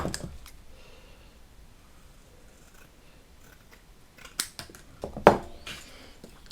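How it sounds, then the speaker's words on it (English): Scissors cutting out individual Bat-Carpet pieces, faint snips and rustles at first, then several sharper, closer cuts and crunches near the end, with no talking. "I'm going to cut out the individual pieces"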